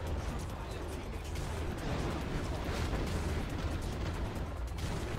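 A rocket salvo in a strategy game plays as a dense, continuous rumble of overlapping explosions and bursts. The rumble is fairly loud and fills the whole stretch without pause.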